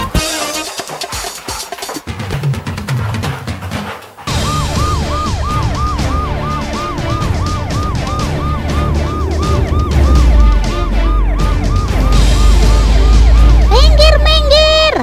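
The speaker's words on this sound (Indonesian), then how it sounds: "Minggir, minggir! Ada mobil ambulans mau lewat nih!" An ambulance siren wails in a loud, repeating rising-and-falling pattern as the vehicle passes on a road, with a vehicle engine rumbling beneath and a second siren tone joining near the end.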